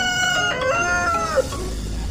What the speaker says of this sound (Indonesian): Wah, ini ayam teman-teman.